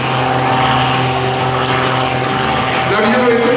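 An Extra 330 aerobatic propeller plane hovers nose-high at an air show, its engine and propeller giving a loud, steady droning roar that holds for the whole stretch while a commentator talks over it.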